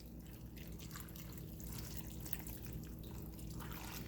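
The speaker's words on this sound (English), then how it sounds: "we're just going to pour that over all of this." Beef broth mixed with Worcestershire sauce is poured over food being readied for slow cooking, making a steady, soft liquid splash and trickle that runs without a break at low volume.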